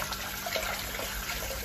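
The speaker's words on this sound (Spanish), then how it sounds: "Y ahora enjuago con agua fría en la pica" Cold water from a sink tap runs over pasta in a colander, a short, steady, soft splashing rush of water with no voices.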